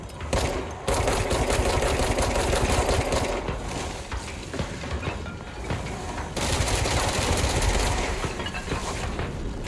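Rapid, sustained gunfire from a video game in the Alan Wake universe, loud rattling bursts with short pauses between volleys, no voices.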